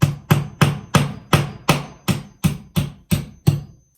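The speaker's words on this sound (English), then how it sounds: "I'm going to put my nail right where I want it to be, hold the spot, and then we'll just hammer that in." A hammer drives a nail into a wall with eleven sharp, evenly spaced blows, each a loud close strike with a short ringing decay, ending with silence.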